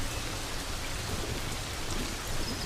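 Raindrops fall on dry grass in the Serengeti, a steady, dense, soft hiss of patter that carries on evenly throughout with no voices present.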